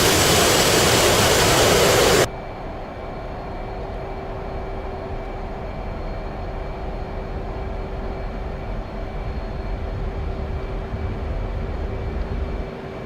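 A Hornet jet launching, a sharp blast of roaring noise for about two seconds, then a steady loud rumble with a constant whine that lingers as the aircraft takes off; no voices.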